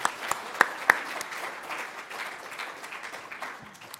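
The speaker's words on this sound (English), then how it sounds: "So what about a round of applause?" Audience applause at a talk on homelessness services, opening with a few sharp distinct claps before settling into a dense, moderate wash of clapping that gradually fades.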